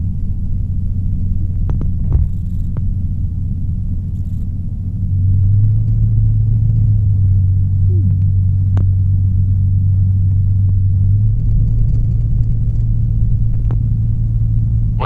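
A Sonex light aircraft engine rumbles and throbs steadily while taxiing, a continuous low drone that grows slightly louder partway through.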